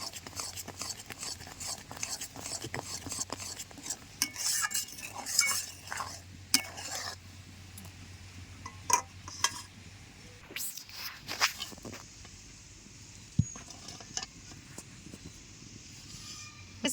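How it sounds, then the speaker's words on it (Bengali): Bael pulp being stirred into milk in a pot for kheer: intermittent spoon scrapes and clinks against the pot come close and fairly soft, with quiet pauses between strokes over a low hum. "এই বেলের গোলাটা দিয়ে কিন্তু দুধের সাথে ভালো করে নাড়তে হবে"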